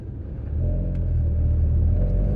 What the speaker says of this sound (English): So, having a drive in the Hendy Performance Focus RS Mark III